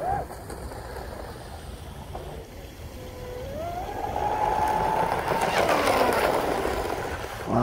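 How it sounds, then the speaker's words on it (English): A Pro Boat UL-19 RC speedboat's small motor whines and rises in pitch as it speeds up, buzzing over splashing water, growing louder before fading slightly. "moving those batteries back definitely sped up the boat"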